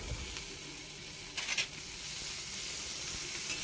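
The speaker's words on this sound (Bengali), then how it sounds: "এবার সুন্দর করে ভেজে নিতে হবে আমাকে কচু শাকটাকে" Boiled taro leaves fry in hot oil in a pan, giving a soft continuous sizzle and hiss with a brief louder spatter midway, heard up close without talk.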